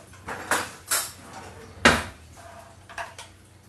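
A spoon clinks and scrapes against a bowl while cumin is stirred into a sauce for fish tacos, with several sharp taps spaced irregularly over a quiet kitchen background.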